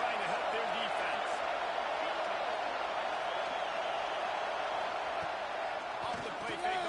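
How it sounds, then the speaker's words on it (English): Stadium crowd roaring at a football game, a dense, loud, sustained wall of cheering and noise filling the whole moment, with a voice talking over it. "Listen to this crowd just shaking the girders of this place, trying to help their defense."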